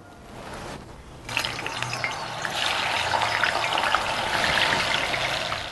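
Seasoned tofu pieces, quartered and sprinkled with salt and pepper, fry in a pan with steady, close sizzling that starts after a quieter moment and continues evenly throughout, no talking.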